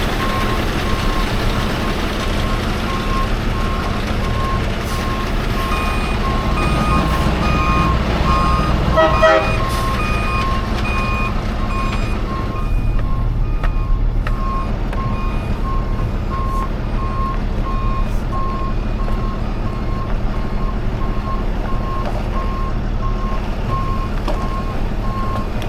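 A Ram 2500 pickup truck idles with a low engine rumble as a high, evenly spaced reversing beep repeats for a long stretch, fading out partway through.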